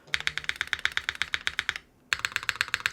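Long pull switches on a Keycult 2/65 mechanical keyboard clack in a fast, even run of sharp keystrokes, a brief pause, then another burst, close and crisp with no talking.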